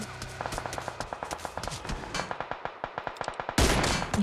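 Rapid rhythmic gunfire from the video game PUBG rings out in a fast string of sharp shots, ending in a louder burst, with faint voices in the background.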